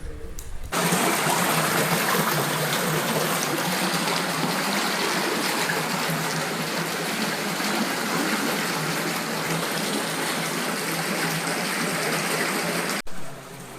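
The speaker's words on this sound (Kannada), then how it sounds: "ಮಹಾಗಣಪತಿ ದೇವರು ಎದುರುಗಡೆಯಿಂದ ನೀರಿನ ಬುಗ್ಗೆ ತಿಮ್ಮುತ್ತಾ ಇದೆ" A natural spring flows in front of the Mahaganapati shrine at the Kesave Ganapati temple, a close, steady gushing and splashing of water that runs unbroken from start to finish with no voices.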